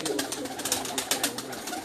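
Pigeons on a rooftop loft, soft overlapping coos and bird calls in a short burst against a noisy outdoor background, moderately close.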